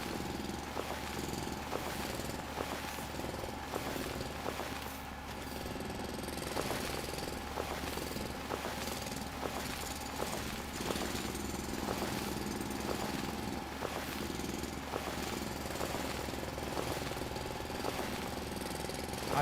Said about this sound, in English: Get our drill out.